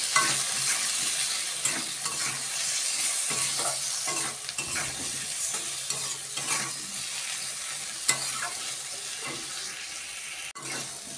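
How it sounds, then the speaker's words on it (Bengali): Hilsa fish curry with salt, turmeric, cumin and chilli powder frying in a pan: continuous sizzling with repeated stirring scrapes and clinks throughout, no voices. "দিয়ে আমি মাছটা এটা ভাজা ভাজা করে নেব।"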